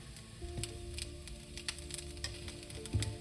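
Soft, steady sizzling with scattered crackles and pops, as soy sauce fries in a hot pan, fairly quiet.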